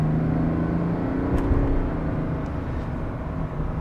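A 2024 GMC Sierra Denali Ultimate turbo diesel pickup accelerating on city streets, heard from inside the cab as a steady, deep engine drone with road rumble that holds strong and even for a few seconds.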